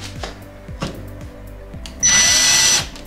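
A power drill bores a hole into a wall for a monitor wall mount, a loud steady whine lasting under a second after some quieter taps and knocks of punching the spot, close up with no talk.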